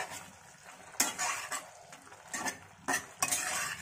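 Drumstick curry (sajne data chorchori, Bengali vegetarian style) with green chillies, stirred while it dries out in a pan; close scraping and clinking strokes come in irregular bursts over a faint sizzle, with no talking.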